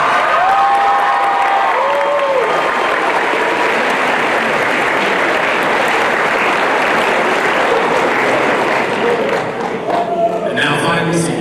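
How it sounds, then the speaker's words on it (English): A large audience at a high school graduation applauds the seniors' parents, and loud, sustained clapping fills the hall. The crowd cheers along with it, a voice rises above the noise, and the applause thins toward the end. "Give them a big round of applause"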